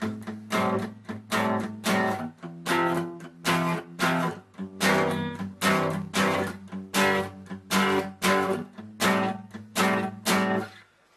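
Acoustic guitar strummed in a steady rhythm, sharp muted chops alternating with ringing open chords, close and clear with no talking.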